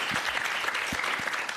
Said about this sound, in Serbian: Jedan veliki aplauz, izvolite.